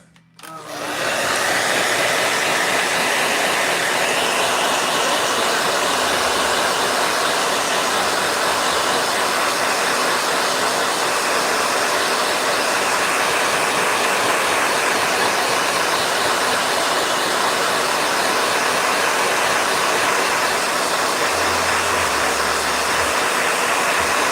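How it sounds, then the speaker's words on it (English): A hair dryer roars steadily and loudly, a continuous broadband whoosh that starts abruptly and holds unchanged for the whole stretch, beside a green pheasant. "Blow dryer."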